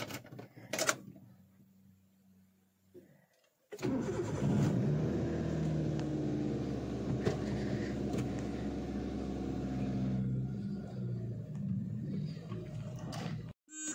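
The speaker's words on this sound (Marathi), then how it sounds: "तो खूप दिवसांनी ही गाडी चालवतो आहे" A car being driven after a long idle spell, loaded with parcels: a short quiet start with a brief tone, then from about four seconds a steady loud engine and road rumble that runs alone to the end, with no talk.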